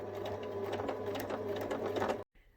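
A sewing machine stitching around a fabric bunny toy, a steady close mechanical whir with a rapid needle rhythm that runs for about two seconds and then stops abruptly.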